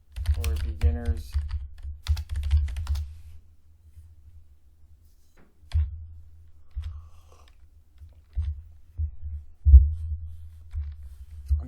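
Keys tapped while typing a search on a computer keyboard, a quick burst of clicks early on, then sparse scattered keystrokes over a low steady hum.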